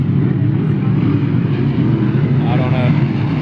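Grand Prix hydroplane racing boats in a five-boat final at the 2018 Lake Guntersville Hydrofest, heard from the lake shore, produce a steady, loud low engine roar that fills the whole clip, with a faint rising whine near the end and voices murmuring underneath.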